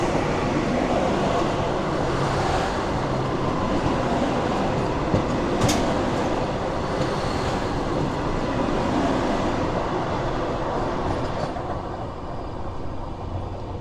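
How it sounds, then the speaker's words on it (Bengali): The 12369 Kumbha Express from Kolkata to Haridwar rumbles steadily as it slows to a halt, a loud continuous rolling and grinding noise with faint clanks. "ট্রেনটা দাঁড়িয়ে পড়লো।"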